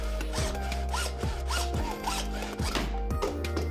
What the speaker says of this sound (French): Le découpage se fait avec la scie à métaux.